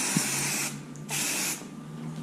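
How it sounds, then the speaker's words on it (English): Aerosol hairspray applied liberally to a dancer's competition hairstyle: two separate close hissing bursts, each lasting about half a second, with a short pause between them. "Hairspray, so we want to just get a nice secure hold"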